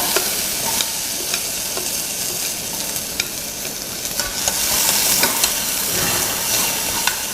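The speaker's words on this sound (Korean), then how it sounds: "버터 소량 둘러주시고요. 양파를 넣어주세요." Onion sautés in a little butter in a pan with a constant close sizzle and hiss, broken by light scraping ticks as the spatula stirs.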